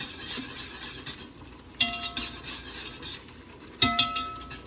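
A small whisk stirs hot fungi in a pot with a steady scraping, swishing rhythm, close and moderately loud, broken by two sharp metallic clinks against the pot's side.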